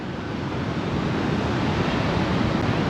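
Sea waves wash continuously onto the shore at Da Nang, Vietnam, in a loud, steady roar, mixed with wind buffeting the microphone and no voices.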